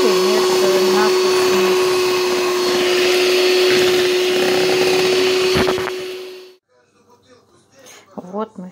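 Electric mixer beating egg whites, butter, powdered sugar and vanilla for kurabye cookies, a loud steady motor whine running for about six seconds and then cutting off, followed by faint handling noises and a brief voice.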